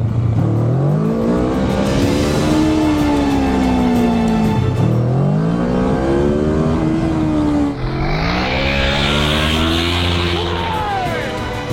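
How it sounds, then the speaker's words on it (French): A BMW K1600 motorcycle's engine revs repeatedly in rising and falling sweeps, climbing to bounce off the rev limiter, loud and close throughout with a voice talking over it. "Ok, petit rupteur tapé."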